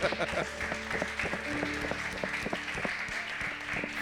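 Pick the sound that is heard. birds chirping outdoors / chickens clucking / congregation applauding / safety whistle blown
congregation applauding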